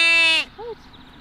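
A single sheep gives one loud, strongly harmonic bleat near the microphone at a mountain shepherd's hut, cut off after about half a second and followed by a brief, quieter vocal sound and outdoor background.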